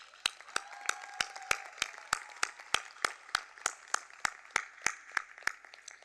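Applause from the audience at a nursing school graduation ceremony comes as a slow, regular clap roughly every third of a second, sharp and distinct over a quieter bed of scattered clapping.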